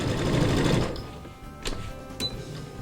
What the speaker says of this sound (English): I'm sewing long sides together with approximately a 1/4 inch seam allowance